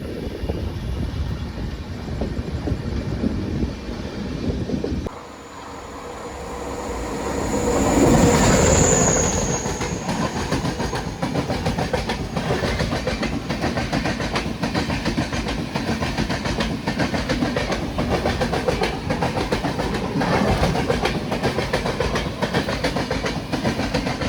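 A passenger express train rolls through a station with rhythmic wheel clatter and a sharp squeal of wheels midway, a steady rumble throughout and no voices.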